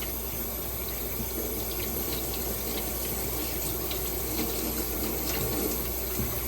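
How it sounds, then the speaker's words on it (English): Water runs steadily from a tap into a sink, a constant splashing hiss with faint bumps of a tomato being rinsed under the stream. "So I'm just washing the tomato with some water."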